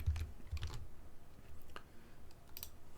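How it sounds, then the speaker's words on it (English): Keys clatter on a computer keyboard in a few quick bursts of typing, close and fairly soft, with short pauses between the clicks. "if I type George and go and save it"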